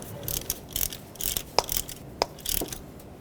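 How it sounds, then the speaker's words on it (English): Hand ratchet tightening a spark plug until it bottoms out in the cylinder head of a 2007-2009 Saturn Aura, heard as a run of quick, close clicking pawl sounds in irregular bursts with a few sharper metallic ticks. "you can put your ratchet on, bottom it out with the ratchet"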